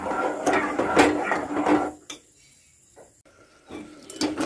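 Tamarind pulp for amla pickle is stirred in a pot over a medium flame, giving a cluster of metallic scrapes and clinks, then a near-silent pause, then a few more knocks at the end.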